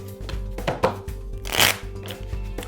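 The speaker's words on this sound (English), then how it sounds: "First, let's shuffle the cards." Deck of game cards being shuffled, a series of close, soft riffling bursts and papery slaps in uneven rhythm, with a brief faint voice underneath.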